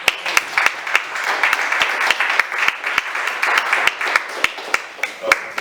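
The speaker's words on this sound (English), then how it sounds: "One more round of applause for the mayor of the city." A meeting audience claps for the city mayor, a dense, steady wash of applause with sharper individual claps standing out throughout.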